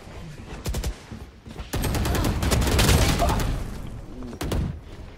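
Gunfire in the tactical shooter game Valorant during a college esports match: dense bursts of rapid shots and booming fire that layer into a loud, sustained fusillade with brief gaps between volleys.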